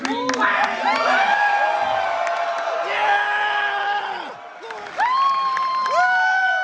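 A festival audience at a Guillermo del Toro Q&A screams, whoops and cheers in loud sustained bursts, with scattered clapping and yelling voices filling the room throughout.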